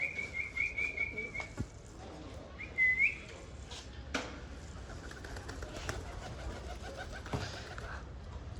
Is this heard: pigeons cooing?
yes